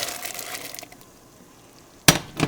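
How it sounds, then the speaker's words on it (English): A low bubbling hiss of water at a rolling boil, then a sudden splashy clatter as green beans are dropped into the pot, with a second smaller splash. "We're going to put the beans in."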